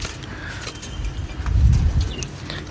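Pigeons in a loft give a low, soft cooing that swells briefly near the middle over a faint background hum, with no talking.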